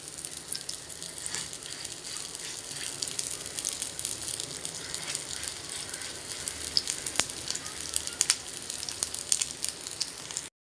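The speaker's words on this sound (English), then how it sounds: "I'm going to shallow fry this." Corn cutlets shallow frying in hot oil in a pan, a steady crackling sizzle with scattered pops, close and continuous, no voice.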